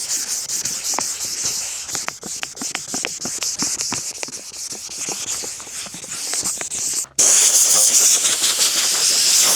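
Close, rhythmic rasping strokes of 600-grit sandpaper on a part from a vintage Buffalo No.18 drill press, then a steadier, louder hiss of continuous sanding.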